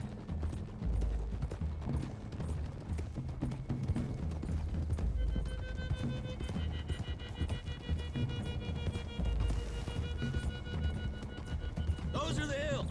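Horses gallop in Red Dead Redemption 2, with fast, continuous hoofbeats close by and a whinny near the end, while voices speak over the ride and a musical tone swells midway.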